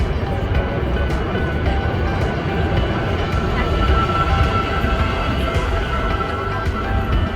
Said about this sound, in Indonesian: Jadi ini metro station, tapi di atas Selat Bosporus.